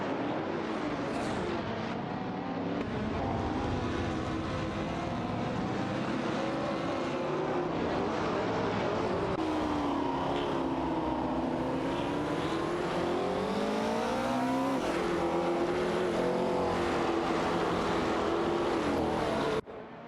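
Race cars in an AI racing video game roar continuously, with engine tones rising and falling as they pass and shift, a dense loud mechanical drone that runs without a break and then cuts off abruptly at the end.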